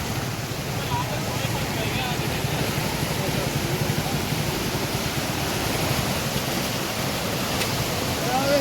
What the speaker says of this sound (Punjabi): ਪਾਣੀ ਦੀ ਆਵਾਜ਼ ਦੇਖੋ